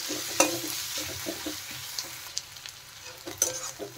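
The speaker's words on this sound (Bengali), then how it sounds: "আর পেঁয়াজ ভালো করে ভেজে দিতে হবে প্রথমে।" Onions frying in a pan for a dhaba-style Kashmiri paneer curry: a steady sizzle with scraping stirring strokes and occasional sharp clinks of a utensil, fairly close and with no talking.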